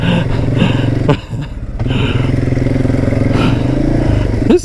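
A Kymco Maxxer 450i ATV climbs a slope with its engine revving hard, a loud, continuous throbbing drone that dips briefly and then surges again, heard up close from the machine itself.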